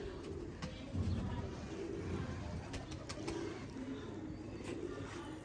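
Ababil breeder pigeons coo in a home loft: soft, low, repeated coos over a steady background hum, with faint chirps now and then.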